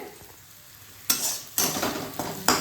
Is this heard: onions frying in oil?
yes